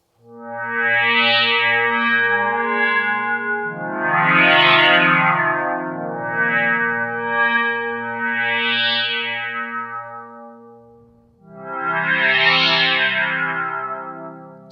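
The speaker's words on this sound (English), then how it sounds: "So that's a pretty classic FM sound, and it's very flexible when used this way." Bright, buzzy FM synthesizer tones from a Reason Thor patch, playing sustained chords and notes that swell and fade in long phrases, loud and clean with no voices.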